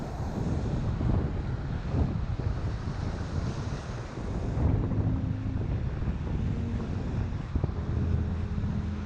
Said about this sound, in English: There's way more waves today.